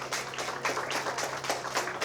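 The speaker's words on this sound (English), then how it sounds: "Let's give them a round of applause, yes." A small crowd at a Cook County grant announcement gives the team a round of applause, a faint, steady patter of scattered clapping heard from a short distance.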